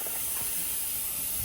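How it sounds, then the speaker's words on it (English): Steady air-leak hiss from a Peterbilt 579 truck, a continuous broadband rush holding at an even level throughout with no talk over it. "Y'all hear that air leak?"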